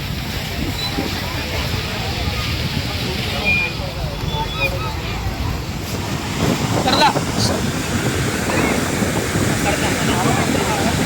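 Waves wash onto Kozhikode beach in the rain under gusty wind buffeting the microphone, a continuous rough roar with a swell near the end, while people talk over it.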